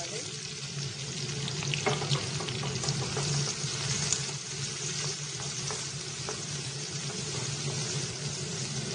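Chopped onions hit hot oil in a pan with green chillies and tempering spices for an ice apple curry, a steady close sizzle and crackle with occasional stirring scrapes.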